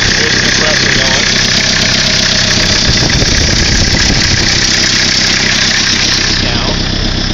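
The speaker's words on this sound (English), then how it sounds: "there's the compressor going" The compressor on an idling 1981 Chevy LUV 4x4 diesel truck runs under a steady, loud, knocking diesel idle with a slight rattle, heard up close while someone talks over it.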